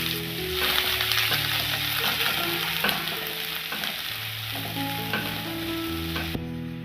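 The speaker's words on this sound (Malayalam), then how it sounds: "ചൂടായ ഓയിലിലേക്ക് നമുക്ക് ചോപ്പ് ചെയ്ത് വെച്ചിരിക്കുന്ന ഗാർലിക് ഇട്ട് കൊടുക്കാം." Chopped garlic sizzles steadily in hot oil for garlic mushroom rice, a dense continuous frying hiss with occasional stirring scrapes, close and fairly loud, with no voices.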